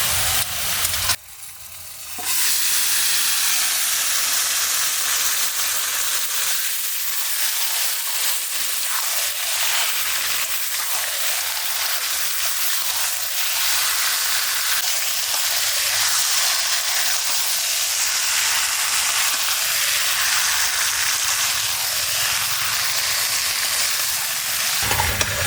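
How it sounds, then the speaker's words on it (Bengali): Marinated duck meat hits hot oil with reddish fried onions for a village-style duck curry; a brief clatter at the start gives way to a loud, sustained sizzle and hiss with faint stirring throughout. "তো এবার ম্যারিনেট করা মাংসটা দিয়ে দেবো।"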